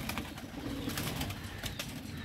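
Pigeons cooing close by, a steady soft throaty murmur running throughout with a few brighter chirpy accents, no voices present.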